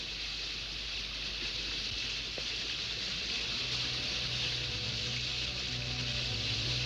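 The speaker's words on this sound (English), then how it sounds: "The current's getting violent." Violent river current rushing near a waterfall inside a dark cave, a steady, loud, continuous broadband roar of water that holds unchanged throughout with no voices.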